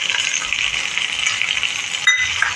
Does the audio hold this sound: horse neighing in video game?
no